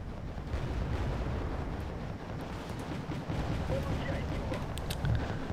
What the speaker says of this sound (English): I'm going to just rocket artillery that area